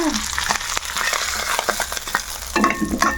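Tempering spices fry in hot oil for drumstick-leaf dal, giving a close, crackling sizzle punctuated by quick clinks and scrapes of stirring, with a louder spit of frying near the end.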